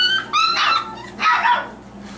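Young puppies play-fighting indoors, yipping and squealing in quick high barks and whimpers, two close bursts of excited noise with a brief pause between.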